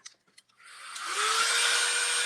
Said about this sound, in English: we're going to hit it with the dryer